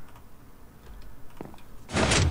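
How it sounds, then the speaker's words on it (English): A hidden door mechanism in Minecraft, inside a castle library, stays quiet with a few faint clicks, then swings with a loud, short mechanical whoosh near the end. "you can see the inner workings of a secret door"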